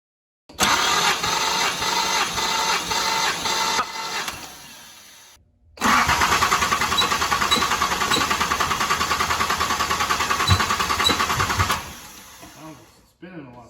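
Rhythmic cranking and churning from a 1981 Datsun 280ZX engine after fuel injector work, stopping briefly, then resuming in a longer, steadier run at close range before cutting off.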